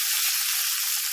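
Hot tempering of garlic, dried red chilli and seasoning spices hits cooked greens with a loud, dense, continuous sizzle that hisses evenly throughout with no talking.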